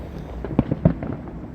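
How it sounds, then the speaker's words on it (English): Fireworks popping outdoors on a Miami porch during a holiday night, several sharp bursts in quick succession, moderately distant, with no talk over them. "They popping fireworks. You hear it."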